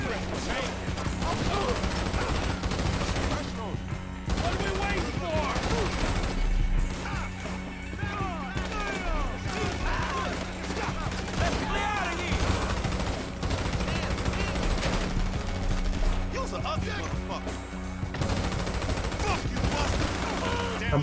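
Rapid gunfire from the video game GTA V crackles continuously throughout, with bursts of automatic shots and crashes under occasional talk in Indonesian.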